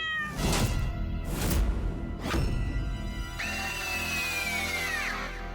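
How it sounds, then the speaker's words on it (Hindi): A cat meows three times in short, spaced cries, followed by a longer drawn-out meow that trails off; fairly close and clear. "बिल्ली की आवाज सुनी तुमने?"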